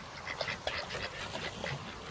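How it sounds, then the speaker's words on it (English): Pacific black ducks at an Australian creek quack in short, scattered calls against a steady outdoor background. "There is Pacific black duck"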